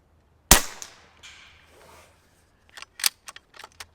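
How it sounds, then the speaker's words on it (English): Umarex Gauntlet .25 caliber PCP air rifle firing a single sharp, loud crack up close, followed by a few quieter clicks and metallic snaps of the action being cycled. "I'm going to shoot the upper left with these"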